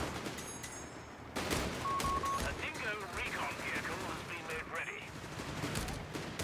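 Battle gunfire from the video game Company of Heroes 3 in a 2v2 match, with dense overlapping bursts and crackling shots forming a continuous loud brawl, with a voice talking over it.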